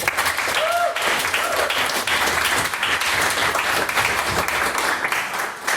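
A debate audience gives a round of applause after a maiden speech, loud dense clapping filling the room evenly from start to finish with no talk over it.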